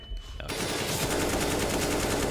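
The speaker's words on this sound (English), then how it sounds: "he baits him to fire, and then it's Tarek to just win the duel through smoke" Sustained automatic gunfire in Counter-Strike on the Train map during a professional match, a loud rapid burst of shots running continuously after a brief quiet start.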